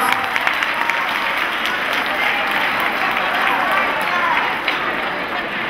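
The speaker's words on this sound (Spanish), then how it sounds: "un aplauso" A large seminar audience of school directors claps together in a dense, continuous wash of applause with crowd noise, loud and steady for several seconds.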